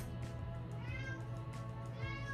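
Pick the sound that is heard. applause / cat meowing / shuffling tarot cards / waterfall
cat meowing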